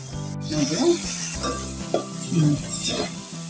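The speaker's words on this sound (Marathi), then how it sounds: "असा मसाला भाजून घ्यायचा आहे असं तेल करेन" Ground spice masala roasting in oil for katachi amti, a close, steady sizzle with rhythmic spatula scraping and stirring against the pan, several strokes repeating, no voices.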